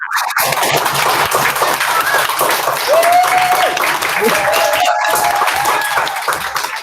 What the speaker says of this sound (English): every class needs to give those two boys a really big clap